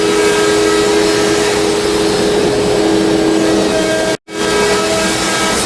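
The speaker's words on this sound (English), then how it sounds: "I got the machine cutting all the letters out for the sign." A CNC machine cuts out letters for a wooden sign, giving a steady, loud whining drone with a tonal hum that briefly drops out near the end before resuming.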